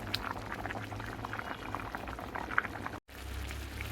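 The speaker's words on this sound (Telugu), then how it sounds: "మన రైస్ ఎలా ఉడుకుతుందో చూద్దాము రండి" Biryani of rice with fenugreek leaves and lotus seeds simmering in a pot, a quiet, continuous bubbling with soft popping and gurgling close by, briefly cut off near the end.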